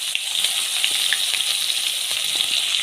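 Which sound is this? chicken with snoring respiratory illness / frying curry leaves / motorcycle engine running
frying curry leaves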